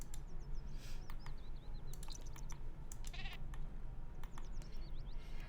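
A big goat in The Sims game bleats in several short, wavering calls under a steady hum of game ambience and music, with no talking.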